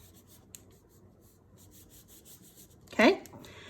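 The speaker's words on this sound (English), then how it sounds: "now we're going to lift this off and really give that a good rub." Brief firm rubbing of cardstock on a handmade card, a short scratchy swipe near the end after quiet, faint handling sounds.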